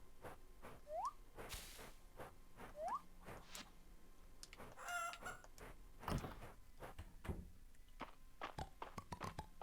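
Chickens in the farming game Fields of Mistria give a few brief rising clucks and chirps, fairly faint, amid soft clicks, scattered knocks and light game ambience.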